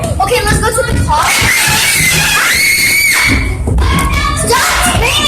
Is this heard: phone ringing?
no